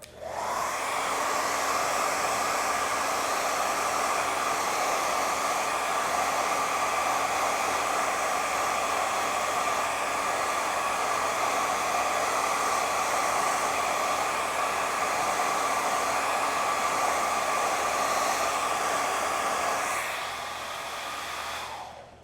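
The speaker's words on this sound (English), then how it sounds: "And now I'm going to utilize the nozzle. This is my blow dryer that I sell" A salon blow dryer fitted with a nozzle roars steadily at full speed and full heat, a loud, close, continuous whoosh that holds for about twenty seconds before easing down at the end.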